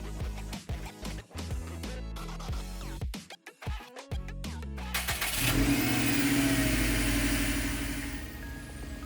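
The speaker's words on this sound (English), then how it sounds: "The car starts up successfully and the installation of our new spark plugs is complete." A Subaru WRX STI engine cranks in a choppy starter rhythm, catches after a few seconds and settles into a steady, loud idle close by, with no talking.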